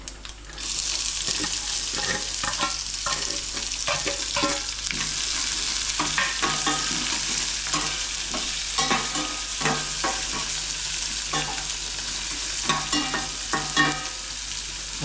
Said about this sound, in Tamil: சைடு வெங்காயம் வதங்கிட்டு இருக்கு